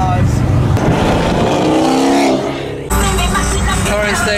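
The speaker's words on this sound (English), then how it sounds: "We are just surrounded by supercars all over the place." Supercars, including a Liberty Walk build, surround the listener in traffic, their loud engines droning and revving close by throughout, with wind buffeting and people talking over the motor noise.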